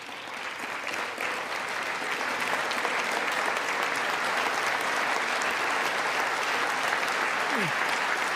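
A packed chamber applauds during a State of the Union address, steady and dense clapping from many hands that holds at an even level throughout, slightly distant, with faint voices mixed underneath.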